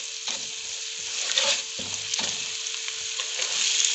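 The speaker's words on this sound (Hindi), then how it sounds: "इस सब को हम थोड़ी देर के लिए फ्राई करेंगे मीडियम फ्लेम पर।" Onion, garlic, ginger, dry spices and urad dal frying in a pan over medium flame, a steady close sizzle broken by scraping stirs, with no talk.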